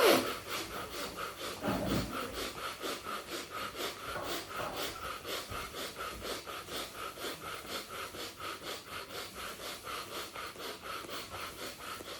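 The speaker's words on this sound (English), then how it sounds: "rub the sides of your arms, upper arm." Palms rubbing briskly up and down the sides of the upper arms during a yoga breathwork exercise, a steady rhythmic swishing of skin and fabric repeating about twice a second, close and fairly quiet, with occasional breaths.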